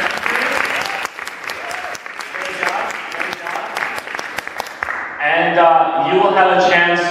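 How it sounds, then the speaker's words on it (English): Audience applause for candidates after a debate, a dense, sustained round of clapping lasting about five seconds before it gives way to a speaking voice. "let's give a last round of applause to all our candidates for presenting today"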